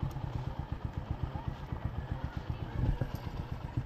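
Small motorcycle engine running steadily nearby, a regular low pulsing throb with faint clatter throughout, with a brief voice in the background.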